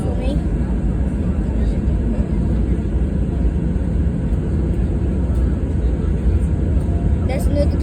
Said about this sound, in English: There's another plane taking off right now, or landing.